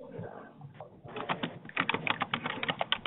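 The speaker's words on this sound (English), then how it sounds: "somebody is typing" Someone types on a computer keyboard during an online video meeting, quiet at first, then a quick, irregular run of close key clicks that grows denser and louder toward the end.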